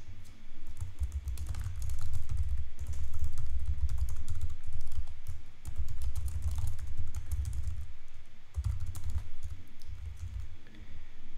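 Steady typing on a computer keyboard while entering a recipient's details into tax form software: a continuous patter of close keystrokes in short bursts with brief pauses, no voices.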